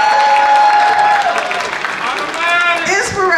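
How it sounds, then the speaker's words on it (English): Audience at a hip hop awards presentation applauding and cheering, a loud wash of clapping with whoops, while a singer's held notes and background music ring through the crowd noise. "Let's give us a round of applause for that."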